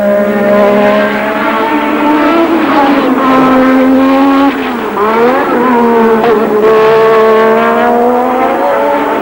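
1986 Formula 1 cars at the Spanish Grand Prix, loud high-pitched engines screaming steadily with gear-change dips and pitch sweeps as cars pass, no voices heard.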